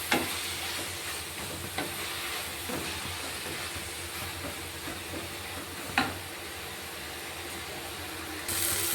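Fenugreek leaves frying in oil in a pan crackle with a continuous soft sizzle, broken by a few sharp scraping knocks of a stirring spoon against the pan.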